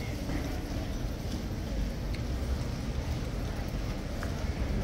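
King's Guard horse hooves clip-clop on pavement among crowds of tourists, a steady, irregular patter of hoofbeats under crowd noise.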